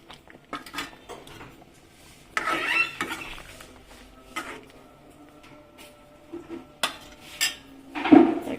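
A spoon stirs cauliflower, tomato and lentils in a pot, making scattered clinks and scrapes against the metal with quiet gaps between them; close and moderately loud.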